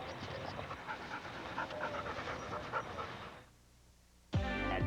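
A dog pants rapidly and breathily for a few seconds, fairly close, before a brief lull and then a sudden louder burst of other sound.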